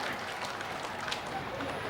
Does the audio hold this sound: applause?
yes